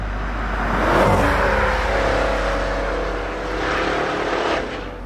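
A 2021 Maserati Levante Trofeo SUV with a 580 hp V8 accelerates hard, its deep engine roar swelling loudly, easing briefly, then surging again as it pulls through the gears.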